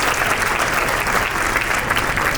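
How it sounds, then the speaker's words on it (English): A hall full of people at a fundraising event applauds after a cultural program, with dense, steady clapping that stays loud and even throughout. "How about another round of applause for that amazing cultural program?"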